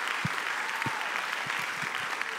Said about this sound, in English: We're clapping.